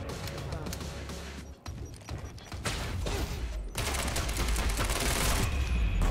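Rapid bursts of gunfire from the Quantum Break video game, loud and dense with clattering impacts, continuing through most of the span, with a brief lull before the shooting intensifies again.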